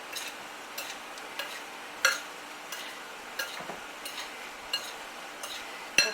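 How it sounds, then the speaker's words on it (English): Sliced sweet apples in syrup for apple pie filling are stirred with a spoon, giving soft scraping clinks at irregular intervals against a faint steady sizzle. "Give it a quick stir again, because a lot of that beautiful syrup that your sweet apples are making"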